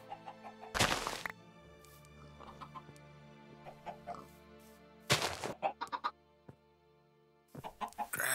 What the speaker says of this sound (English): I might as well breed these chickens